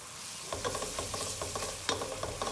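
Ground ginger and garlic fry in a pan for a Lahori chana dish, with a soft sizzle under repeated scraping stirs of a spoon, close and fairly quiet.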